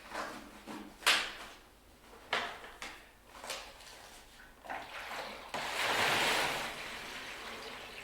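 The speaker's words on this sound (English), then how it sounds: "all you can hear is the swishing of the tank" Water sloshes inside the tank of an ash WaterRower rowing machine, swishing in rhythmic surges with each stroke, growing into a longer rushing wash near the end, close and fairly soft.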